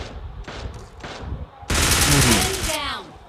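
Rapid automatic gunfire in a solo-versus-squad battle royale game, shooting down enemies: a short quiet stretch, then a loud, dense burst of continuous shots over game sounds.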